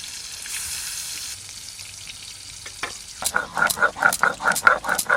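Pieces of a large sea chela fish fry in a pan with a steady hiss and sizzle. The sizzle gives way to a rhythmic series of stirring or scraping strokes, close and fairly loud.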